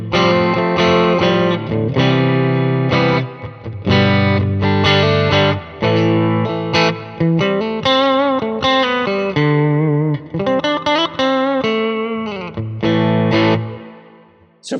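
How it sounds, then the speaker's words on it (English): A PRS SE CE 24 Satin electric guitar on its bridge pickup split to single coil plays a string of distorted chords and riffs through effects, loud and rhythmic with short pauses between phrases. "And here's the bridge pickup in single coil."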